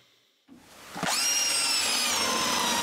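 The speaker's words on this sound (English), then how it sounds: "So I take some 2x4s and drill some holes to make new ones." A power drill whirs up after a brief contact and bites steadily into 2x4 lumber, a close, continuous high whine with grinding texture.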